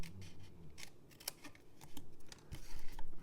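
Scissors cut through a paper box template for a fold-flat mini box, several short snips and slicing strokes close by, with quiet paper rustling in between and no talking.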